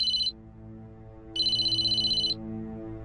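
A phone rings with a bright electronic trill, a short burst followed after a pause by a longer pulsing ring of about a second, clear and close over a faint low background.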